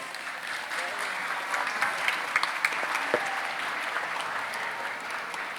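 An audience applauds steadily and warmly at a Sewol ferry ninth-anniversary memorial in Ulsan, welcoming a shipbuilding subcontractors' union vice-chair to the front; a broad, sustained wash of many hands that fills the whole stretch.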